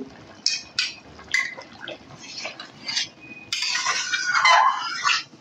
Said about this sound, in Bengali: অবশ্যই কিন্তু গরম জল দিতে হবে